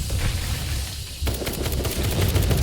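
Automated turrets fire on an attacking horde in the survival game Night of the Dead, a dense, continuous rattle of rapid gunshots that grows busier partway through and is heard alone.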